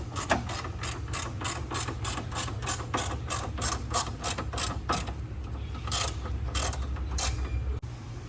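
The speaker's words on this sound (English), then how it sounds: "Torque them all down." A ratchet wrench tightens the rear fender bolts on a Freewheeler trike. Rapid, even clicking ratchet strokes sound up close and continue steadily, with no speech.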